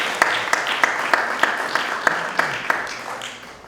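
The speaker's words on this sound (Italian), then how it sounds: "Credo che meriti un applauso." Audience applause at the opening of an Andrea Mantegna exhibition in Piazzola sul Brenta: a moderate spread of clapping with sharp, evenly spaced claps beating through it, fading slightly toward the end.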